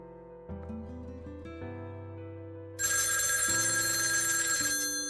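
A telephone's loud, continuous bright ring starts partway through and carries on steadily, layered over music that plays throughout.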